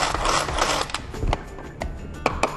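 Parsley is chopped coarsely in a Tupperware pull-cord chopper, giving a quick series of plastic ratcheting clicks and whirring pulls, close and fairly loud, with no talking.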